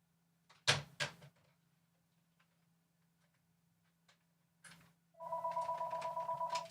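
A telephone rings in a steady, pulsing trill near the end, after a few scattered knocks and clicks over an otherwise quiet room; the ringing comes from repeated incoming calls.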